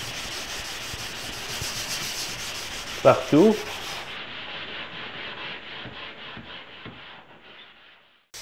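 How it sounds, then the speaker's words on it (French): Steel wool rubbed hard over wood to work in natural linseed oil, giving a steady scratchy scrubbing rasp with a brief louder burst midway; a voice speaks briefly, then the rubbing softens and stops. "Donc, on frotte très fort"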